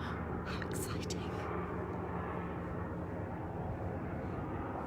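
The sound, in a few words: helicopter flying overhead near airport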